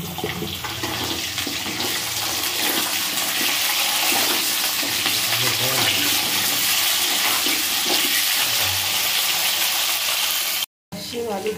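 Potatoes and flat beans fry in a pan, giving a loud, continuous sizzling hiss that holds steady for several seconds, with a brief cutout near the end.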